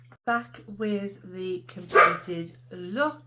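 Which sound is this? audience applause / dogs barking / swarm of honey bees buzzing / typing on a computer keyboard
dogs barking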